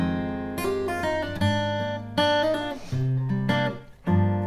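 An acoustic guitar plays the slow, melodic second section of a song: close, sustained plucked notes and chords flow unhurriedly, with no voice.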